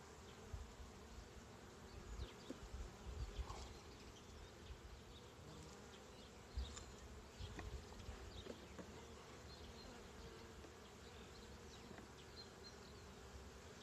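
A constant drone of many gentle honey bees buzzing close by at a hive, with individual bees flying past louder now and then, no voices.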